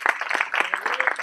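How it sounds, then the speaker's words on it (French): Audience applause at a ceremony where regional delegates are announced: quick, distinct handclaps from a small crowd, close and brisk, with no talk over them. "Marie-Vonne Barillot, on applaudit."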